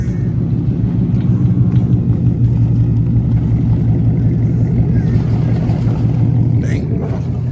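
Ford Mustang GT fitted with a Valvetronic exhaust idling and running, heard from outside the car as a loud, steady, deep rumble throughout with a slight swell near the end.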